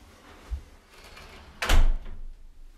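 A house door is opened, with a soft knock near the start and then a louder latch-and-swing thud partway through, heard close and alone in a quiet entranceway.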